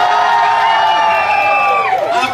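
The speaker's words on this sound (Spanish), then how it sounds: "Ok, aplausos para el troll." A bar crowd cheers, whoops and shouts for a troll costume in a costume contest, a loud burst of voices with high-pitched yells on top that lasts a couple of seconds.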